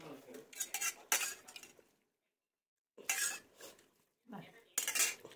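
Metal serving utensils clink and scrape against plates and pots while dal is ladled out at a Bengali home meal, in several bursts of clatter separated by a short pause.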